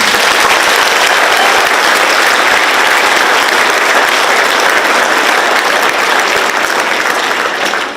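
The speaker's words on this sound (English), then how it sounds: "Can we please give her a round of applause?" Audience applause at a middle school spring choir concert, a dense, steady wash of clapping that fills the room loud and unbroken for the full stretch before tapering slightly at the very end.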